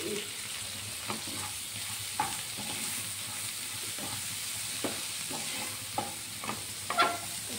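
Masala prawns sizzling in a pan while being stirred, a continuous close hiss broken by regular scraping taps of a spatula against the metal.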